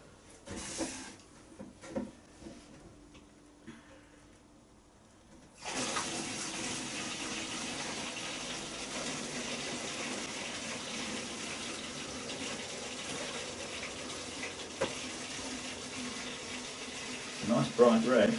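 Raspberry and loganberry wine pours steadily into a jar for over ten seconds after a quiet stretch with some handling noises, with voices speaking faintly beneath.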